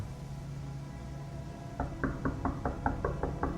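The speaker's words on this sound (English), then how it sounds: "do not answer the knocking at the door." A series of about nine quick, even knocks on a door, heard over a steady low hum, mid-loud and fairly close.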